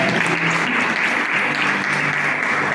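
Church congregation at a Sunday worship service clapping together, a sustained, even roar of applause with a faint tonal hum and a few voices beneath.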